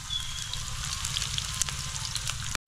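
Ginger fries in a pan for octopus adobo, giving a soft, steady sizzle and crackle with faint occasional stirring scrapes, quiet and close throughout.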